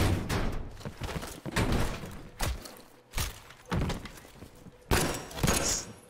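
A door is opened in Call of Duty: Black Ops Cold War, heard as a string of heavy thumps and knocks with bangs and clatter spread across the clip.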